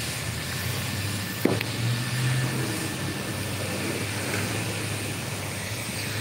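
Steady road noise from a car being driven, a constant broadband hum with a low engine drone, one brief click partway through and no speech.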